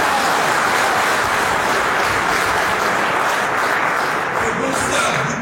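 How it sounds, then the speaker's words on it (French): An audience at a political rally for the CAP-Côte d'Ivoire opposition coalition applauds, a dense and steady wash of clapping that holds at full strength throughout. "Vous allez applaudir ça."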